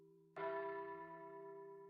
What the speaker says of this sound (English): A bell tower rising toward the sky, its bells still pealing away